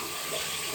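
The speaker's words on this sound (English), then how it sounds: "I'm gonna rinse my flannel again" Water runs steadily from a bathroom tap as a flannel is rinsed under it during an evening skincare routine, a close, continuous splashing hiss with no talking.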